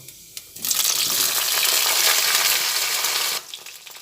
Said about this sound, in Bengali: বেগুনটা অল্প করে ভেজে নিচ্ছি